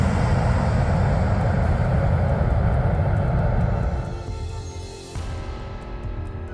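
A Boeing 787 airliner touching down on Antarctic ice gives a loud, sustained engine roar and rumble that holds steady, then eases and thins toward the end.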